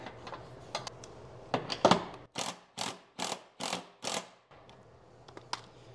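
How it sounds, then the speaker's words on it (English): A wrench ratchets as it loosens a bolt that holds a belt in place, giving a close run of crisp clicks followed by a steady series of five sharper ratcheting strokes, with no talk over it. "you do need to put a wrench underneath here to hold that bolt."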